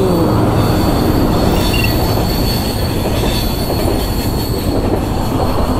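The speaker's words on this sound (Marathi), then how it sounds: "ब्रिजवरून ट्रेन जाते रात्रीचं यार" At night a train rumbles loudly and steadily across a bridge, wheels grinding and squealing on the rails in a continuous, close roar.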